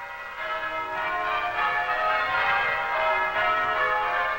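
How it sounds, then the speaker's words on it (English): Tower bells of a Vancouver ringing band pealing in change ringing for a seven-bell method paced by the tenor, a continuous overlapping wash of bright ringing tones that swells and sustains. "We're now well into change ringing, and it's a world of new sounds described by ancient terminology."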